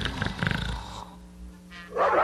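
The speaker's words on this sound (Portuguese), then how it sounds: "Mas de manhã, os cães farejadores estavam bem perto de nós." Sniffer dogs bark in a few gruff, rough bursts at the start, fairly close, followed by a quieter stretch and a sudden noisy rush near the end; no one speaks.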